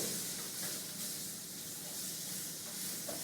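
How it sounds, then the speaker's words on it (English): Steady, soft crackling sizzle of bacon frying in a pan, continuous and fairly quiet with no talking. "now you can hear the bacon start to sizzle"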